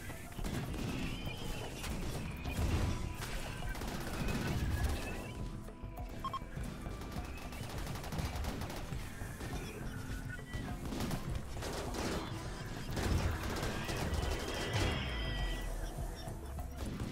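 RimWorld combat with mechs and imps trading fire, a dense, continuous clatter of rapid gunshots and crashing impacts that runs steadily throughout at a loud level.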